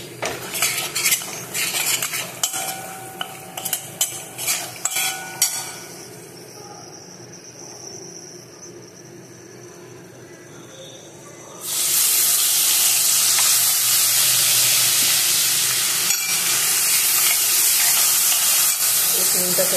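A spoon clatters against a pan as garam masala and kasuri methi are stirred for rajma. Then a loud, steady sizzle hisses up as a little water goes in to cook the spices.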